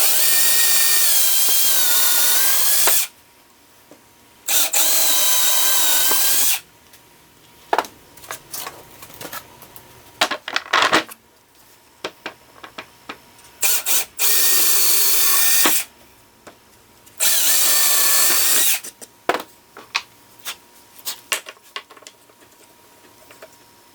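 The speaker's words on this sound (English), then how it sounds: "drill the holes a little bit smaller and go ahead and mount them on there" A power drill bores holes in a shop tool's base for mounting wheels, running in two loud bursts of several seconds each, with scattered clatter and handling knocks in between.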